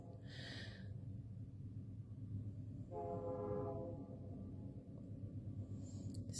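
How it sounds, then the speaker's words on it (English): A train rumbles steadily in the distance, and a horn blast sounds midway, a tonal wail lasting about a second over the low continuous roll. "You hear the train."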